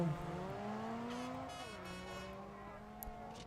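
Racing cars in a video game, engines droning and shifting pitch as they accelerate and change gear, a continuous close whine with a brief tire squeal, fairly quiet overall.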